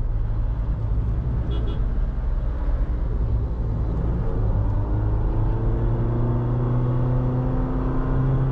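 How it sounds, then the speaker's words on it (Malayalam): A 2023 Honda City ZX with a 1.5-litre i-VTEC engine and CVT gearbox is being driven: a steady engine drone and road rumble, with a smooth tone rising gradually as the car gains speed, heard from inside the cabin without talk. "ഒരു സൗണ്ട് ഉള്ളതാണ് C V T gear box"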